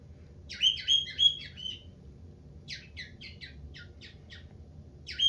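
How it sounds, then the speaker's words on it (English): Pet cockatiels chirp in a living room in quick bursts of bright, repeated tweets, a cluster near the start and a run of short, evenly spaced chirps after a pause, close and fairly clear over a low room hum. "Oh boy, birds everywhere."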